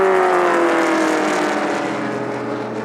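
A Shelby race car at a Sonoma speed festival roars past close by, one loud sustained engine note sliding slightly downward in pitch as it goes, with no talk over it.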